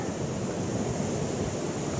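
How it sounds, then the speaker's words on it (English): Ocean surf on a Costa Rica coast breaks and washes in a continuous broadband roar, with wind buffeting the microphone and no talking. "We got some fun waves."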